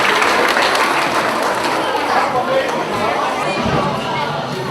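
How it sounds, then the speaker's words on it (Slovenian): A crowd at the Konvoj 2016 event applauds third graders, loud clapping blended with lively chatter and voices throughout, the clapping thinning toward the end while the talk carries on. "En aplavz za tretješolce"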